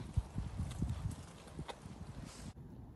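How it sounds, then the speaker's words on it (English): Horses being led in at a pony club yard, hooves clip-clopping in an uneven close rhythm of several steps before the sound cuts off. "I shall bring in the horses because that's what you're really here for."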